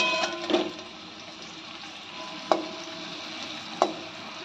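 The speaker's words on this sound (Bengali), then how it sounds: "গ্যাসটা কমিয়ে আস্তে আস্তে ভেজে নেব।" Potato spring rolls frying gently in a little oil in a pan over low heat, a soft continuous sizzle with a few sharp taps or clicks as pieces are moved, close and quiet, no talking.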